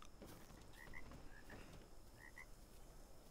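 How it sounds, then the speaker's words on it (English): Frogs croaking in ARK: Survival Evolved, faint paired chirping croaks repeating a few times over a quiet background hiss of outdoor ambience. "I hear frogs"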